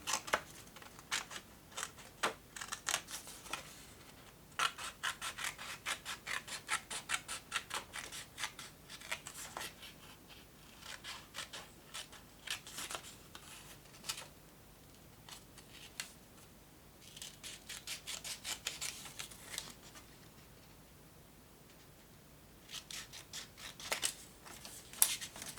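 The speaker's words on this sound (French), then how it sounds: "c'est pas grave, je vais les couper au ciseau" Scissors snip through paper card edges during handmade card crafting, making close, crisp cuts in quick runs separated by short pauses.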